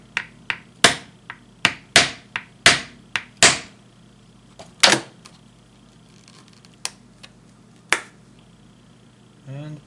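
Sharp hammer blows driving a hole through a sheath, a quick run of loud, close impacts in the first few seconds, then a few sparser knocks later with quiet gaps between them.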